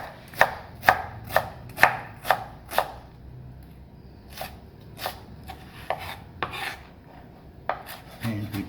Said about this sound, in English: So we're gonna slice this onion.